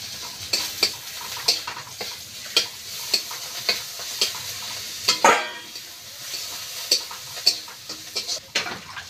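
Green chillies and ginger-garlic paste spatter in hot oil in a covered pan, giving a continuous sizzle punctuated by regular sharp pops and taps, close and clear with no voices over it.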